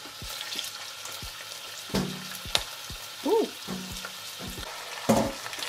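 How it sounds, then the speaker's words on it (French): Pieces of meat sear in olive oil in a pan over high heat, with a steady close sizzle broken by occasional stirring clatters and scrapes. "À feu fort pour commencer et avec de l'huile d'olive, on va saisir les morceaux de viande"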